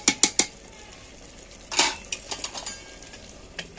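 Mutton being stirred in a pressure cooker pot: sharp metallic clanks and scrapes of a spoon against the pot in quick bursts, with quiet gaps between them and no talk.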